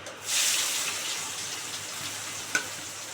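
Chopped onion dropped into hot oil in a pan, a sudden loud sizzle that settles into a steady hiss, with a brief clink near the end.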